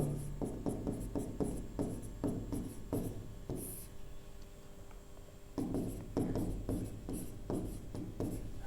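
A pen scratching out chemistry formulas in close, rhythmic strokes. The writing pauses briefly in the middle, then resumes with more steady scribbling.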